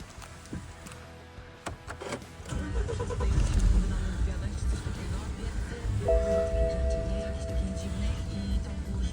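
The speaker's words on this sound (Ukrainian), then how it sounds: "Зараз запущу і покажу, як працює двигун." A BMW 118i engine cranks and catches after a couple of seconds, then idles steadily with a low rumble and a faint whine, close by.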